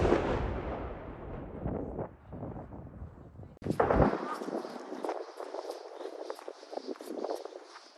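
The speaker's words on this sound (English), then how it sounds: "We are hearing explosion a few blocks away right now." Shelling explodes a few blocks away in a war-damaged city. Dull booms and a sharp crack come through wind buffeting on the microphone, followed by scattered softer thuds.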